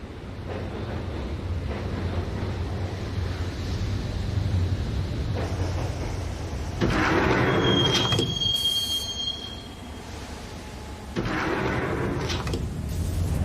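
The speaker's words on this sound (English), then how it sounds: "the train doors had already shut behind me, and I was in for the ride" A subway train in the video game Max Payne rides along the rails, a continuous rumbling clatter with metallic wheel squeals and a brief high screech, with no voices.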